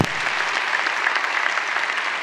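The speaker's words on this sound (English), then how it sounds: "you guys can clap for them" A theater talk audience breaks into steady, dense applause that stays even and full for a couple of seconds, with no voices standing out.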